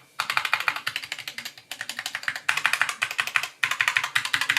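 Rapid typing on a keyboard with textured Tai Hao rubber keycaps over Gateron optical black switches, a close, steady clatter of keystrokes in four bursts separated by brief pauses, with no talking.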